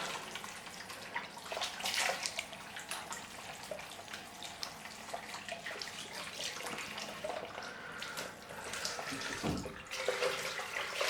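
Running water from a tap splashing steadily while a freshly shaved head is rinsed off, continuous and close, with a brief lull near the end and no speech.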